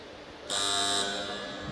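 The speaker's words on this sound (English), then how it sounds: "the buzzer goes on every 30 seconds" At a national weightlifting championship in Bhubaneswar, a competition timer buzzer sounds one loud, sustained, harsh tone that cuts in abruptly and holds steady to the end, over faint hall background.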